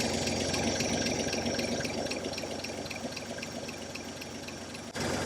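A 1944 Chevrolet pickup, a Canadian-spec farm truck, idles steadily nearby with an even, low mechanical churn and faint ticking, running smoothly and alone until a brief bump near the end.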